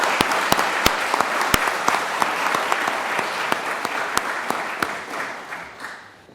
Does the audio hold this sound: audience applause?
yes